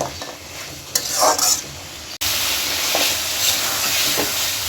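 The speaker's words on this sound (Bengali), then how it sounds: "এখন এই কাঁঠাল বিচি আর চিংড়ি মাছ একসাথে ভালো করে কষাই নিব।" Jackfruit seeds and shrimp stir-fry in a pan for a jute-leaf curry, with a steady loud sizzle and scraping stirs, a brief pause midway before the frying resumes continuously.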